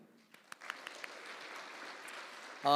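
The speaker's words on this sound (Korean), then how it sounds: "하나님께 영광의 박수 올려드립니다" Scattered claps at a church youth group gathering build into soft, distant applause from a congregation, fairly faint, ending in a sudden louder burst.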